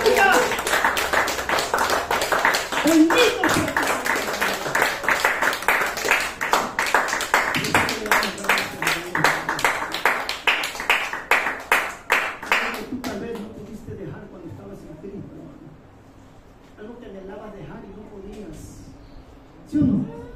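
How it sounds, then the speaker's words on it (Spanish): A church congregation claps in a fast, steady rhythm for about 13 seconds, loud and close, then the clapping fades into quieter murmured talk and voices. "Dale aplauso"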